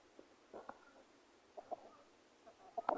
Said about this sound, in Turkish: Tavuk çağırıyor.